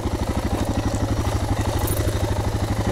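Vehicle engine running steadily while driving along Gold Camp Road, a loud, continuous pulsing rumble with a rapid regular throb that stays close and even throughout.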